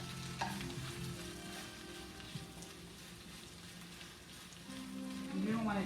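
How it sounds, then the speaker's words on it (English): Spinach sautéing in a pan on a cooktop for a brunch dish, a steady rain-like sizzle with occasional stirring, fairly faint and continuous, with a voice faintly in the background. "Saute the spinach."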